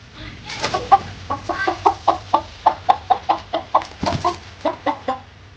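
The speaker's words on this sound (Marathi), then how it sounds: "हे बघा कोंबडा कसा बसलाय कसा बघतोय" A rooster clucks over and over in a steady, quick rhythm, close and fairly loud, with a faint low hum underneath.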